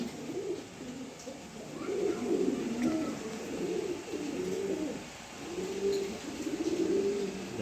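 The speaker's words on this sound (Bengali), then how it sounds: "এখানে একটা মাদি কবুতর আছে দেখার মতো" Several pigeons, including older breeder birds, coo in steady overlapping waves throughout, a low rolling burble heard nearby with no talk over it.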